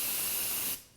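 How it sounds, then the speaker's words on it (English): White high-performance enamel spray paint hissing steadily from an aerosol can for most of a second, then cutting off abruptly. "pull out a little of this high performance enamel white spray paint."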